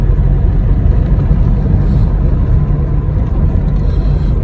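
Cars pass close by on a busy, narrow road in the Philippines, making a loud continuous rumble of engines and tires with shifting intensity and no talk.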